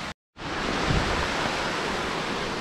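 River water rushing beneath a stone bridge at Garni, Armenia: a steady, dense broadband wash after a brief silent gap at the start, constant and moderately loud with no voices.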